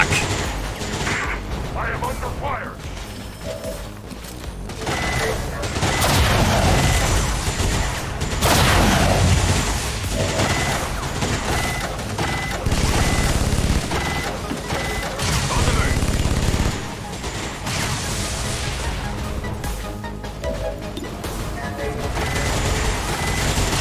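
Sustained gunfire and explosions in the video game XCOM 2, a dense, loud barrage of shots with booming impacts running throughout, partly under talk.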